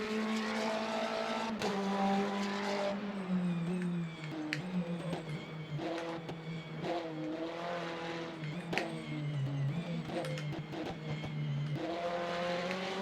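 Race car engine in the Le Mans Ultimate racing game, driven at Le Mans, roars loudly and steadily throughout with pitch rising and falling through gear changes, plus brief tire squeals.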